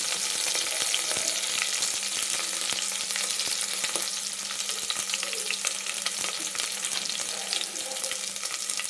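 Curry leaves, ginger, garlic, green chillies, bay leaf and pepper fry in oil in a pan for tomato rice, giving a loud, continuous sizzle with stirring scrapes throughout.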